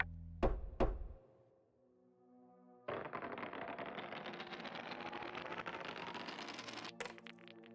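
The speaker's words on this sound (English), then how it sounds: "your sleep is interrupted by the sound of knocking on the door" Knocking on a door in the judge simulator game JudgeSim: a few sharp, close knocks in quick succession, followed after a pause by a steady droning rumble.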